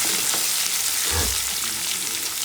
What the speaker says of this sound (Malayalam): വെളുത്തുള്ളി ഒന്ന് വാടി വരണം.